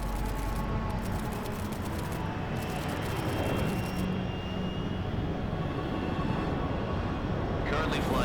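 Steady, loud engine drone of a plane in flight over the Arctic Ocean at 30,000 feet in Metal Gear Solid Delta: Snake Eater, a constant roar with a faint higher whine running throughout.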